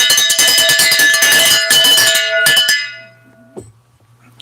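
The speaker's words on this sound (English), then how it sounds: "That's the 200 thumbs up bell." A bell rung on a livestream to mark 200 thumbs up, with a dense burst of bright metallic ringing and rapid strikes that hangs briefly and then decays into near quiet.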